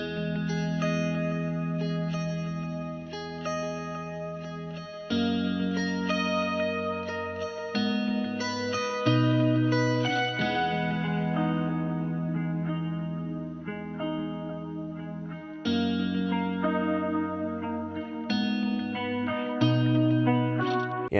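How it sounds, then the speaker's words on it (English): Guitar arpeggios pitched down one octave ripple steadily in a low register, notes overlapping with echo and chorus-like shimmer, changing chords every few seconds. "we just took that arpeggio guitar, copied it over, and pitched it down by 1 octave in the second part"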